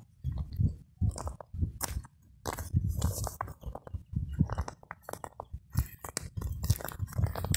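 Dry, cracked soil in a sunflower field crunches underfoot in Tamil Nadu. Close, irregular crackling crunches come with each step over several seconds, and there is no talking.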